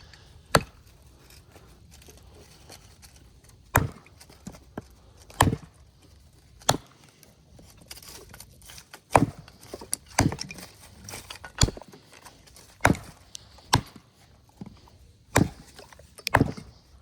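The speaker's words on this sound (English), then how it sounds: "Now let's do some complete horizontal chopping." Sharp, irregular chopping strikes of a knife blade hitting wood horizontally, over a dozen hits spaced a second or so apart, close and distinct against quiet background.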